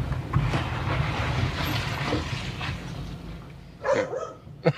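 A dog barks a few times close by near the end, the sharp yaps rising over a low rumble of a vehicle, with faint talk in the background.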